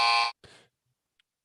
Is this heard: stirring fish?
no